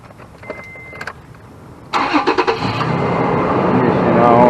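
A 2014 Toyota Tacoma with power tow mirrors: a faint click, then the ignition comes on with an engine-like rise, steady hum and a brief motor whir as the left mirror moves, fairly loud and close.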